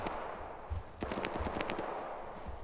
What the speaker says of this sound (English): Frag over the wall.